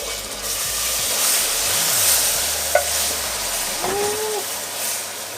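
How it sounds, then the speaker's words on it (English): Steady sizzling and bubbling as coconut cream goes into a hot pot for a Samoan coconut pumpkin dessert, with faint stirring scrapes and a brief clink partway through. "Once you see that there's little bubbles, you're going to pour your coconut cream in"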